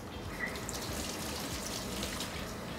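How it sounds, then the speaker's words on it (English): A kitchen tap runs steadily while hands are rinsed under it during meatball preparation, a close, constant splashing hiss with no talking. "I'm gonna wash my hands."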